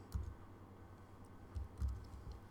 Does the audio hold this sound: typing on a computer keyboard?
yes